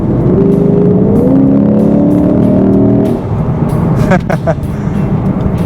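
A 2025 Lexus IS500 F Sport sedan with a V8 engine giving a loud, steady low rumble that holds for a few seconds and then eases off, with a voice talking over it.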